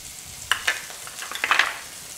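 Cumin seeds, asafoetida powder and green chilli crackle in hot oil, a faint hiss broken by several sharp little pops and spits that bunch together midway, close but fairly quiet, with no talk.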